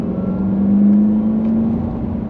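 A Volvo S80 V8 engine revs as the car shifts down gears, a steady, close, smooth hum that rises slightly in pitch and then holds, with no talk.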